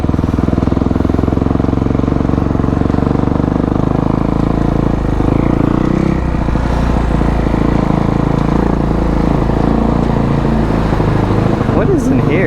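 A Kawasaki KX250F dirt bike engine runs steadily and loudly throughout while ridden, a continuous low drone with slight throttle swells.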